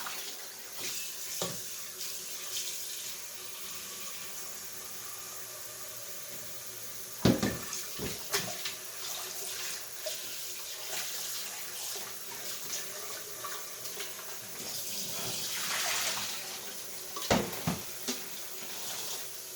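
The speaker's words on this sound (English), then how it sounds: "I like to rinse the bag out as well." Running tap water rinses out an empty corned beef bag in a kitchen sink, a steady hiss of flowing water with a few sharper splashes and crinkles of plastic, close and unaccompanied by speech.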